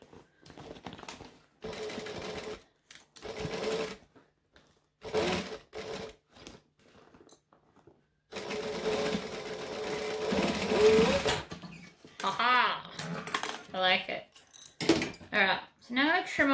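Sewing machine stitching a fabric bag seam, running in several short bursts separated by pauses, with a few clinks and small handling noises between runs.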